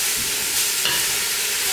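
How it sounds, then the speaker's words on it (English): Ground beef browns in a pan for lowfat chili, producing a loud, steady, close sizzle with a faint scrape of stirring and no talk. "So just stir it around."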